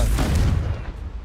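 A Confringo spell blast in Hogwarts Legacy, a single loud, deep explosive boom that rumbles and fades over about a second.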